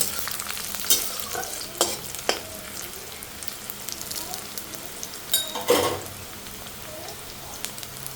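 Cinnamon and cloves fry in hot oil in a pan, giving a steady low sizzle broken by sharp pops and spatters at irregular intervals.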